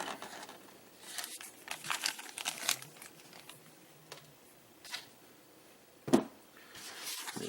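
Plastic packaging for a Transformers collector's club figure is cut open and small parts are dumped out, with faint crinkling and rustling, a few soft handling taps and one sharper clack near the end.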